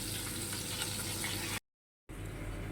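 Pointed gourd pieces sprinkled with a little salt and turmeric sizzle and fry in a pan with a steady crackle that cuts out briefly, then returns.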